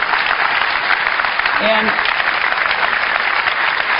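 Sustained audience applause fills an Apple keynote hall as Intel's CEO is invited on stage, steady and loud throughout, with a brief spoken word from the presenter over it.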